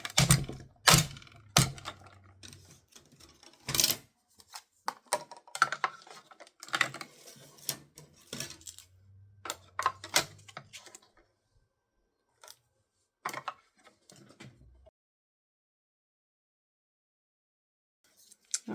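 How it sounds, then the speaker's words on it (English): A small cut and emboss mini machine for paper crafting with a die runs in close, quiet clicks, thunks and short cranking bursts, with a low hum under some passes, before tapering to near silence. "Bring in my cut and emboss mini machine."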